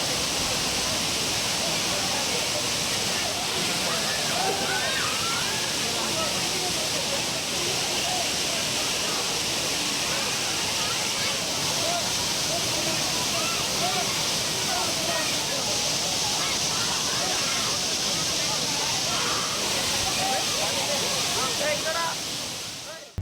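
A waterfall where crowds of tourists bathe after a rain-swollen season, a loud, steady roar of falling water that fills the scene evenly throughout with no breaks.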